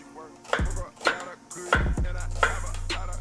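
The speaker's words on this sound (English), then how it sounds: "we're just gonna go ahead and get some nice slices of onions" A knife slices onions for caramelizing, producing several sharp cutting strikes at an uneven rhythm, close and fairly loud, with low background hum between cuts.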